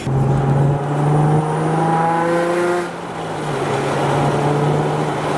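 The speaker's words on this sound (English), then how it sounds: "It makes the VQ engine sound more like the R35 VR38 engine." A Nissan 350Z VQ engine with a new Nismo exhaust drones steadily and close, throaty, its pitch shifting slightly as it holds revs, with no voices.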